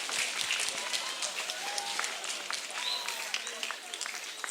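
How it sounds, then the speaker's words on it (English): A group of students at Samuel S Gaines Academy clap in a steady, sustained round of applause that fills the room for several seconds, with faint voices mixed in underneath. "Give me a round of applause."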